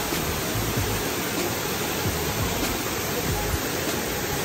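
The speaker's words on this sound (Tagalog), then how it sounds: "Andyan yung falls sa baba." Waterfall at Lubong Nangoloan Falls in San Felipe, Zambales, a steady dense roar of falling water that stays loud and even throughout with no voices.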